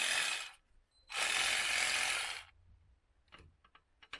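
A socket ratchet snugs down the battery cable on a 2008 Dodge Caliber, giving two loud, rapid clicking runs close by, followed by softer, scattered ticks and light tool handling.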